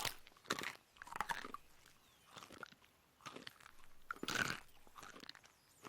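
Close, crunchy bites and chewing on tree bark come in several uneven bursts of crackling and grinding, with quiet pauses between them and no talking.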